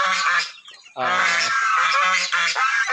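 Loud, close honking and quacking from farm ducks, a few harsh calls in quick succession with brief gaps between them.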